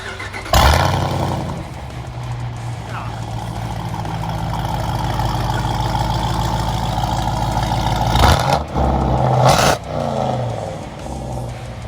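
An 800 whp Jeep Trackhawk heard from inside the car, the engine rumbling steadily and loudly, rising as it builds, then sharp surges and shifts near the end as it launches hard.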